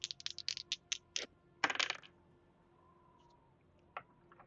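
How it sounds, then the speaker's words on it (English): Dice rattling and clattering across a table during a tabletop role-playing game session, a quick burst of small hard clicks that settles, followed by a lone tap a moment later. "roll a dice and see if Kid cared enough"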